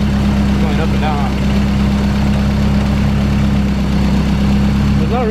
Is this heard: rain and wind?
no